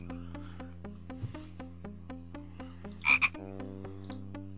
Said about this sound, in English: there'd be a frog here, and it's here.